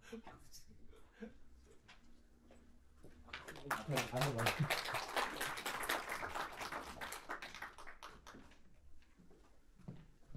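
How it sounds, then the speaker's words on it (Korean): At a launch ceremony for an AI auction rights-analysis service, a small audience claps as the CEO comes to the stage. The applause is quiet and distant, building after some background chatter, holding for several seconds, then tapering off. "대표이사 등단 시에는 박수와 함께 맞아주시면 감사드리겠습니다."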